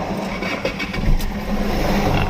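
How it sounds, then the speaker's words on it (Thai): A car engine runs at a workshop after an ECU remap tune, with a loud, continuous rumble and a few small surges as it settles. "เดี๋ยวมาฟังเสียงสตาร์ทเครื่องครับ"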